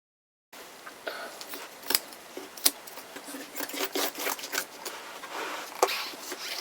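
Scissors trim upholstery fabric on a dining chair seat, making a close run of crisp snips and rustling cuts in an uneven rhythm after a short silence.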